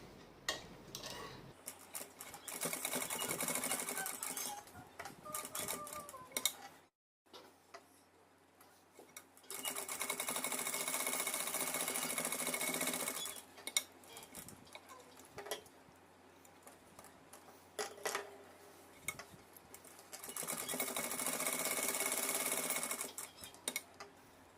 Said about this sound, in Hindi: अब इसमें सिलाई लगा दूँगी